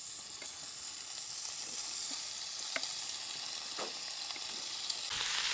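Bacon frying in olive oil in a pan over a campfire, a quiet steady sizzle with occasional crackles and pops, heard alone without talk.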